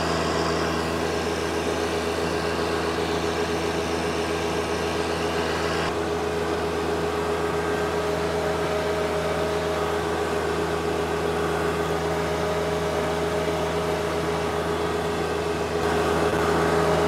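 John Deere 1025R turbo subcompact tractor engine running steadily at full RPM while pulling a land plane on a driveway, a loud continuous drone with a constant pitch and no talk.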